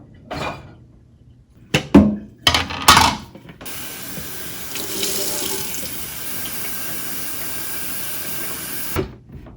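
Water running from a home water purifier tap into a container, a steady close stream lasting several seconds after a few short clatters of handling, then cutting off.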